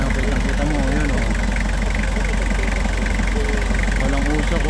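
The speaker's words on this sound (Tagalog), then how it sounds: "Walang usok, walang dilag shape ang makina natin." A 2005 Toyota Grandia van engine with a newly replaced timing belt idles steadily and up close, a continuous low rumble with a light rhythmic tick, while someone talks over it throughout.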